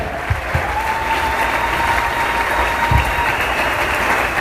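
A church congregation applauding and acclaiming the Lord, sustained dense clapping from a crowd with a few voices rising through it, steady throughout and fairly loud.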